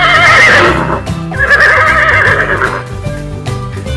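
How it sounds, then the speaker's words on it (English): A horse neighs loudly and close, a long shrill whinny that rises, breaks and trails off into a second quivering cry, with no talk around it. "Horse."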